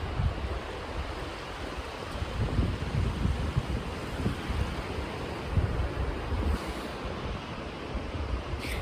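Ocean waves break and wash onto a beach in a continuous rolling roar, mixed with steady wind noise across the microphone and no voices.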